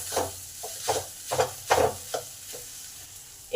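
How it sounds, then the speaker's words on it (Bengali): Boiled mung dal being stirred into cooked beetroot in a pan: a series of about eight short, uneven scraping strokes, close and moderately loud, with quiet gaps between them. "এই ডালটাকে বিটের সাথে ভালোভাবে মিশিয়ে নেব।"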